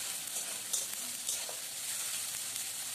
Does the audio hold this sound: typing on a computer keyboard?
no